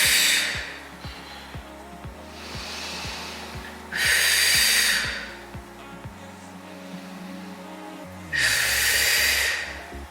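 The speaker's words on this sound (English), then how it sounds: "Inhale and exhale." Deep, slow breaths during a postpartum pelvic floor exercise: three loud airy exhales, each about a second long, spaced a few seconds apart over a low steady background hum.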